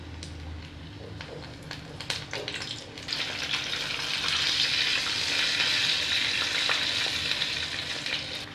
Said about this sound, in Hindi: धीरे से इसमें एक एक करके लॉलीपॉप्स डाल देंगे